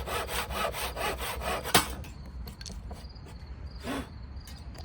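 Oak for a bookshelf being hand-sawn, a steady back-and-forth rasping rhythm of strokes that stops midway, followed by faint scrapes and a quieter background hiss.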